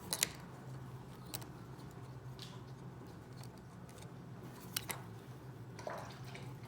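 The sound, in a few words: dog drinking from water bowl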